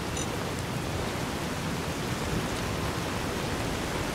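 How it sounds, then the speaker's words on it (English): Steady rain falling in the Mojave Wasteland of the video game Fallout New Vegas, a constant broadband hiss that holds even and unbroken throughout with no voices. "welcome back to the rainy weather of New Vegas, Mojave Wasteland."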